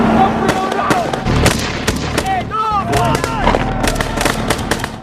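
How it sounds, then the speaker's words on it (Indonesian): A war-film battle scene at a consulate fills with dense gunfire and commotion: rapid shots, sharp bangs and shouting voices overlap in a loud, chaotic mix, with speech-like cries throughout. "Suara keributan dan tembakan"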